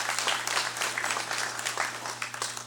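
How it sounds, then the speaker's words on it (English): Steady round of applause from the floor of a congressional session hall, quiet and even clapping from many hands, lasting a few seconds with a low hum beneath. "Let's also give him a round of applause."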